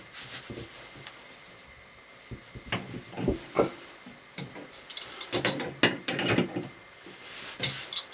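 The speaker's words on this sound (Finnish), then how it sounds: "Ja otetaan tuo ulos lähtevä liitos tuosta auki." A wrench loosening the outgoing pipe fitting on a leaking outdoor water faucet, irregular close metallic clicks and scraping knocks in short clusters against a quiet background.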